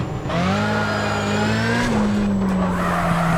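Sustained tire squeal from a drifting car in the video game CarX Drift Racing, loud and continuous with a steady engine drone throughout, pitch rising slightly then dipping.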